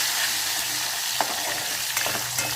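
Onions and tomatoes sizzle in a hot pan for a potato and brinjal curry, a steady close frying hiss throughout with a few soft stirring clicks, no voices.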